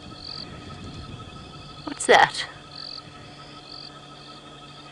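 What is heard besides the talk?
painted reed frogs, sand frogs and olive toad croaking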